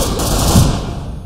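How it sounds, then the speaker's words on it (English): Gunfire in the snowy stage of the online shooter Ghost Recon Online, a loud, dense burst of shots running through a short stretch, with a heavier low thump near the middle. "I guess it's time to use my gun."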